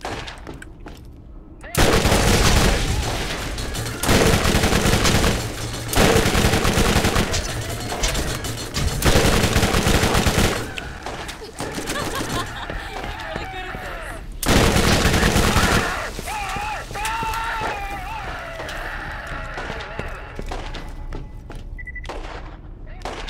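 Gunfire in the video game Borderlands: loud bursts of rapid shots in several long volleys, with quieter stretches between them and game effects in the background.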